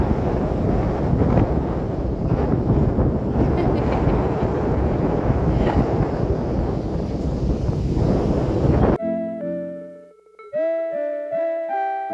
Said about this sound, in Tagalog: Lakas ng hangin, sobra.